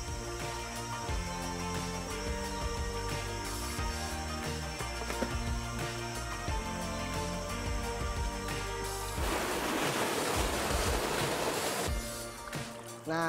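Flowing water at the Semolon waterfall, a rushing wash that swells louder near the end beneath steady background music.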